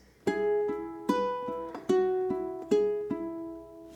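A ukulele plays a bar of a film theme: five plucked notes and chords ring out one after another at an even, unhurried pace, each decaying cleanly, close and clear with no talking.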